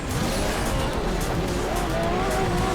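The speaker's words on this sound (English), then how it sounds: "So this is definitely a quiet engine. Yes, it is the McLaren engine." A McLaren race car in Asphalt 8 drives at speed, a steady dense engine roar with rising tonal whine and tire noise, loud and continuous throughout.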